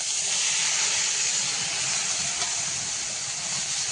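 Taro stolons go into a pan of frying prawns, producing a loud, continuous, close hiss of sizzling oil that holds steady throughout.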